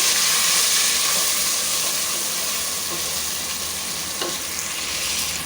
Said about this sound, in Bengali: এই মশলাগুলো দিয়ে দিচ্ছি বাটার মশলা আর গোটা আস্ত কিছু মশলা আর কি সব কিছু দিয়ে এখন তেলের মধ্যে ভেজে নেবো